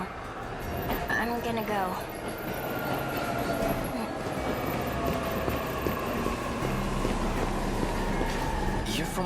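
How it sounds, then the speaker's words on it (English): A train pulls into a station in the video game 13 Sentinels: Aegis Rim, a steady rumbling rail roar with a brief squeal early on, while a person speaks briefly over it. "The train's already here"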